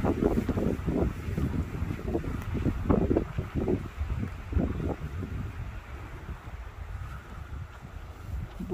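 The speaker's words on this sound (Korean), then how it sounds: "바람이 너무 세게 불어서 상당히 시끄럽습니다" Strong gusts buffet the microphone outdoors at the tomb of Queen Jindeok of Silla, producing loud, rumbling low-pitched thumps that pulse irregularly and ease somewhat toward the end.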